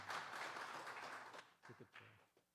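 Open-mic comedy audience applauding, a burst of clapping that starts loud and thins out into a few scattered claps near the end.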